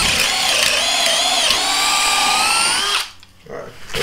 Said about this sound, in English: We're gonna be doing some basic drilling.